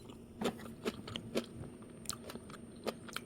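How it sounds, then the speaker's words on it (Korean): Blanched water spinach (morning glory) stems dipped in a soy and vinegar sauce being chewed up close, with about six soft, crisp bites in an irregular rhythm. The sound is quiet and there is no talking. "간장 소스에 적셔서 먹어보고 있는데요"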